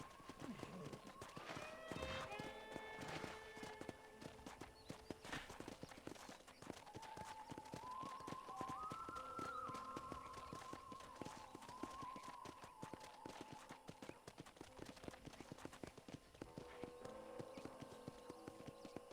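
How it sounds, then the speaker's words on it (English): Galloping horse hooves in the video game Red Dead Redemption, a rapid, steady clip-clop throughout with a brief whinny, under in-game voices talking. "let's see if you can still ride a horse"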